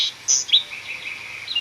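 A small bird chirps up high in an oak tree, near its nest with eggs: a few short, bright, high tweets with a soft, thin trill continuing underneath, clear and close against a quiet background.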